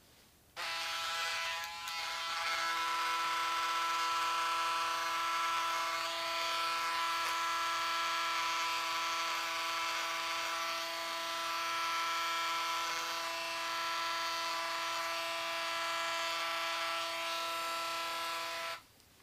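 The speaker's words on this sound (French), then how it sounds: "À la place des ciseaux, on prendra la tondeuse." A steady, high electric buzz from a beard trimmer runs unbroken for nearly the whole clip, close and fairly loud, with no voices.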